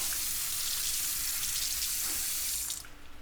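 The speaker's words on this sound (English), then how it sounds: "we're going to rinse them off in cold water, to cool them down" Cold tap water runs steadily over dyed knife scales in a sink, a constant close hiss that stops abruptly near the end, leaving quieter trickling.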